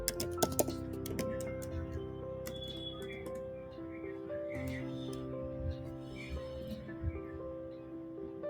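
Business details being typed on a computer keyboard, a run of light, quick key clicks under a steady background hum, sharper taps clustered near the start.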